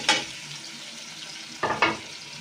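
Onion and garlic-ginger paste frying in a pan with tomatoes added, giving a steady soft sizzle and a few louder stirring scrapes near the start and end.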